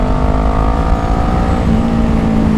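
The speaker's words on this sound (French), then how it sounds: "Allez on descend en rapport, on accélère." A Kawasaki ER6N motorcycle engine drones steadily at close range, its pitch shifting as it drops a gear and pulls harder, sustained and loud throughout with no talking.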